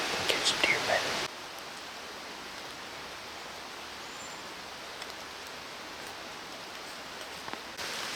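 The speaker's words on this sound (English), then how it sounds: "now we got rain coming" Rain patters steadily on leaves and the forest floor in Pennsylvania woods, a soft, even hiss that continues throughout after a brief burst of louder noise at the start.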